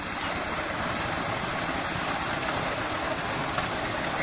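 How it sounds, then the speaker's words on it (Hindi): Water gushes hard from the outlet of a solar-powered water pump motor, a dense, steady roar of rushing water with no pauses and no talk. "पानी जो है ना वो कुछ इस तरह आ रहा है मोटर में से, ये काफी अच्छा प्रेशर है इसका"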